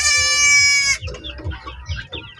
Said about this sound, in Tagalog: Oh, nag-ingay yung ating alagang kambing. Yung ating bagong silang na kambing.